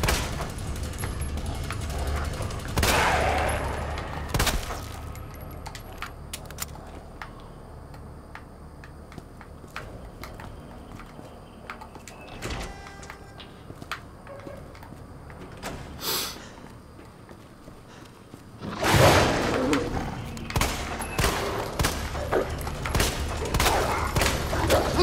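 Gunfire in the survival horror video game Resident Evil 2, scattered sharp shots over a low ambient background, with louder dense bursts around three seconds and again near nineteen to twenty-one seconds.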